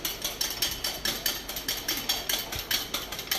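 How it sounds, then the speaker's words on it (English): Egg mixture for a mango cheesecake being whisked in a bowl, giving quick, even clicking strokes about five per second that continue steadily throughout, close and moderately loud with no talking. "So I'm just whisking it"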